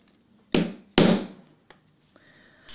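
A small hammer strikes an eyelet hole punch twice in quick succession, loud sharp metallic blows, followed by faint tapping and light handling noise.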